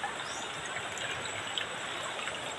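Water from a hillside source spills and trickles steadily beside a rural riverside, a constant close splashing flow with fine bright droplet texture and no talking over it.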